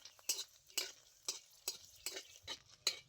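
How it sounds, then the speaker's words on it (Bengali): Dry red chillies frying in hot mustard oil in a wok, with about seven sharp stirring scrapes spaced roughly half a second apart over a faint background sizzle. "এবার আমি 4-5টা মতো শুকনো লঙ্কা ভেজে নেব"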